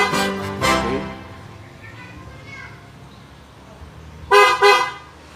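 Keyless entry alarm on a car sounding its horn chirps as it locks automatically: a double toot at the start and another quick double toot near the end, clear and fairly close, with quiet background between.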